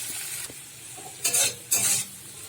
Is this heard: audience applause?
no